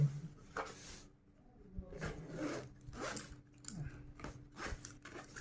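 A zipper on a tool bag is pulled open and shut, giving several raspy, ratcheting zips in short bursts, close and fairly quiet.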